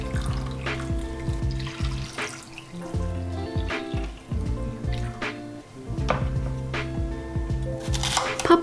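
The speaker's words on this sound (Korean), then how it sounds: "목이버섯, 콩고기, 조랭이 떡은 물에 담가 불려주세요." Water runs and splashes in a kitchen as wood ear mushrooms, soy meat and small rice cakes are set to soak, with light pouring, dripping and clinking of containers close by and gentle background music.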